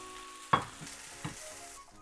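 Quiet sizzling of miso stir-fry frying in a pan, with two sharp scraping clatters of stirring, the sizzle continuing softly between them.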